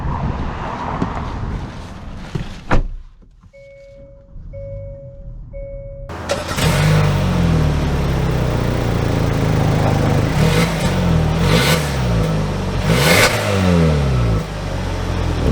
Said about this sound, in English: We're setting off in the Santa Cruz with the base engine.